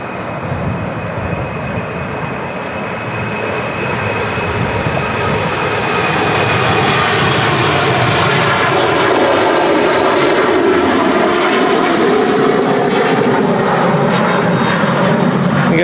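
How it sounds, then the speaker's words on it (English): An Austrian Airlines Embraer jet departing Manchester Airport for Vienna, its engine roar building and swelling steadily into a loud, sustained rumble as it rolls and climbs away. "The Austrian Embraer heading off to Vienna."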